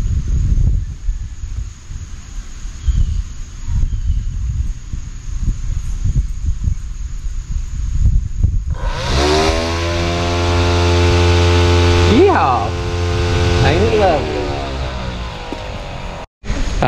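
An empty deer feeder's spinner motor at an off-grid property starts after a stretch of wind and rustling outdoors, kicking into a steady buzzing whine that shifts pitch partway through and runs on until an abrupt cutoff.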